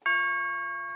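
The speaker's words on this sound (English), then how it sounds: "The tubular bell is one of the bells everybody love using" A single tubular bell note from a Logic Pro template strikes once with a bright attack, then rings on with a long, steady sustain, sounding alone and close.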